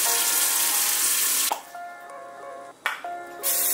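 Running water from a tap splashes over food being wetted before cooking, a steady broadband rush that breaks off twice briefly and then resumes, close and loud with no talking.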